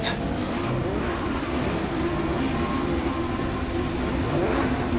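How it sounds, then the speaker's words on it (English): Super Touring race car engines rev steadily on the grid at Imola in a racing simulator before the start, a dense, continuous engine drone at a constant loud level with no voices. "As the revs rise at Imola, race is about to start, any second now."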